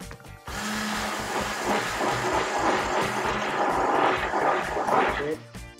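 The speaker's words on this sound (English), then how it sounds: "use the hand blender or a whisk again" A hand blender whirs continuously for several seconds, a buzzing motor churning through thick, hot lemon tart filling, starting abruptly and cutting off at the end.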